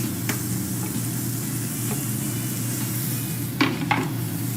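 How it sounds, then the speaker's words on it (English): Diced onion hits hot olive oil and sizzles in a steady, close, bright hiss, with a couple of brief clinks of a utensil against the pan near the end. "We're going to put it into our hot oil here. You hear that nice sizzle."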